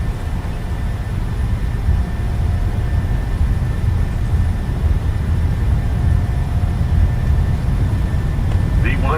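An airliner's takeoff roll in Microsoft Flight Simulator 2020 on a Norwegian route out of Oslo, heard as a loud, continuous broadband engine roar and rumble that holds steady for the whole stretch.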